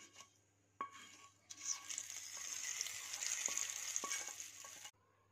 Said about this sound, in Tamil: உளுத்தம்பருப்பு, கருவேப்பிலை சேர்த்துட்டு லைட்டாக கலரிக்கணும்.